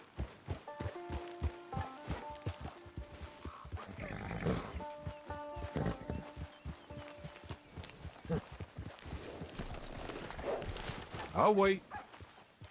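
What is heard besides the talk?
horse in the video game Red Dead Redemption 2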